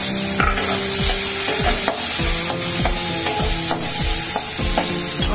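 Tomatoes stirred into a pan of onion paste and green chilli, cooked in little oil, give a loud steady sizzle with repeated rhythmic scraping strokes of a spoon throughout, without any talk.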